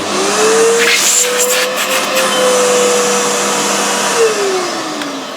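A Hoover U3456 PurePower vacuum cleaner motor runs steadily with a whining hum that rises and falls slightly, loud and close, with no talking.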